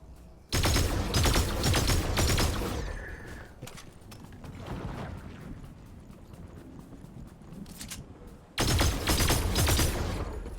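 Video game gunfire erupts in two long, dense bursts of rapid automatic shots, loud and close, with a busier, softer stretch of action between them.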